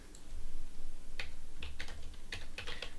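Someone types a command on a computer keyboard, a short run of quiet, crisp key clicks in an irregular rhythm, close by and alone.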